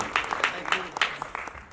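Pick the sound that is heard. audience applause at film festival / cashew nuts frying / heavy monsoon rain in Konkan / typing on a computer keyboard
audience applause at film festival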